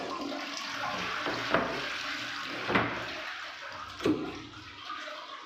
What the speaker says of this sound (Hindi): मशीन में पानी भर जाएगा